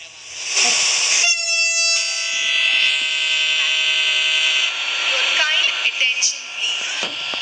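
In a train simulator game, a train stands at the Agra Cantonment platform. A steady rumble and hiss run under a loud, sustained electronic horn and alarm-like tones, ending in clanks and rattles.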